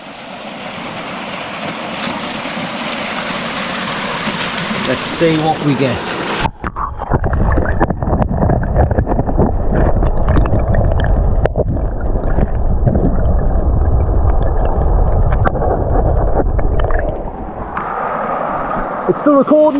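River water heard through a submerged GoPro camera: a dense, muffled underwater rush and gurgle that fills the middle of the clip, after an open-air stretch where a person talks, loud and steady throughout.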